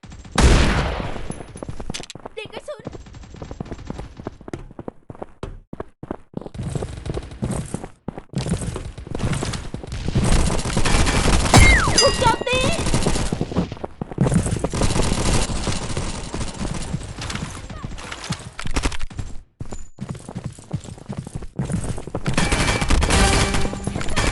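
Gunfire in the battle royale video game Mini World Royale, with dense bursts of rapid shots and crackling fusillades filling most of the clip, broken by a few short pauses.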